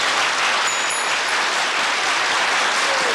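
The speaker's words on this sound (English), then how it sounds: "if the audience wants to be on, they'll applaud every time they see themselves" A television studio audience claps steadily throughout, a dense wash of applause that stays loud and even with no break or voices.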